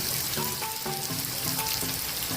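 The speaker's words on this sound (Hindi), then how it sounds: "अब इनको फ्राई करेंगे।" Capsicum and cabbage fry in oil in a home kitchen pan, giving a continuous bright sizzle with faint stirring and clinking underneath.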